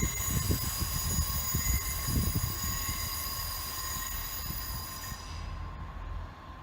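A Class 158 diesel train bound for Norwich runs through Grantham station. Rolling wheel clatter and rumble come in a few pulsing surges, with a high, steady tone over the top that cuts out near the end, and no voices.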